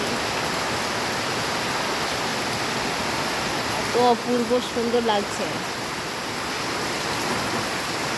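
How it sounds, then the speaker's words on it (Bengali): Heavy rain pours down steadily at a home, a dense, even hiss that fills the whole stretch, with someone speaking briefly partway through over it. "কি সুন্দর বৃষ্টি হচ্ছে দেখো, বাড়িতেই মনে হচ্ছে নদী এসে গেছে"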